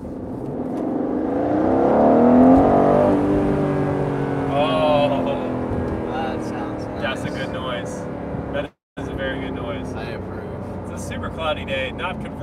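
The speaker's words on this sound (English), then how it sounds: "And you just hear the baffles and the exhaust open up." A 2021 Aston Martin Vantage Roadster in Sport Plus mode, its engine and open exhaust swelling into a loud rising rev and then settling to a steady burble, with a voice talking over it.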